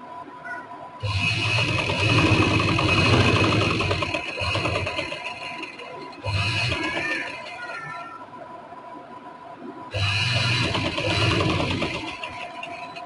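Sewing machine stitching trouser fabric, its motor whirring in three separate bursts of a few seconds each, with quieter pauses between runs.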